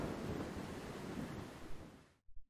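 Steady heavy rain with a deep rumbling wash of thunder fills a dark night scene in a video game, holding loud and continuous before cutting off, followed by a couple of faint soft thumps.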